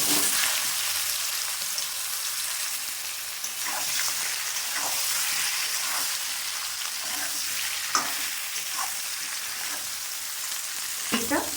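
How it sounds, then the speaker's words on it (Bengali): Raw jackfruit pieces sizzle in hot oil in a pan, a dense, continuous hiss heard up close, broken by several sharp stirring scrapes and knocks at uneven intervals. "এঁচোড়গুলি ভেজে নেব।"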